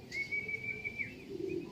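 A bird, probably a pigeon, gives a thin sustained whistle-like call, followed by a short lower coo-like sound near the end, fairly close and with no talk.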